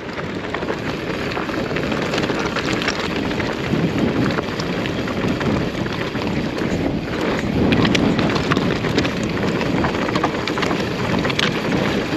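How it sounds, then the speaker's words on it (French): Wind roars steadily across the microphone while enduro riding in the Verdon Gorge, a loud, low, rumbling buffet with a few gustier swells. "Ouais, il y a du vent."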